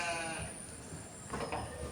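A sick sheep bleats with a wavering, drawn-out call over steady farmyard background noise.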